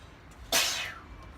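A single sharp sneeze bursts out in a greenhouse during spring garden prep, loud and close, its hiss trailing off over about half a second against quiet background.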